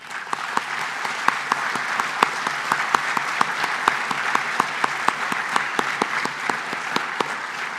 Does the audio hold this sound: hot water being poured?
no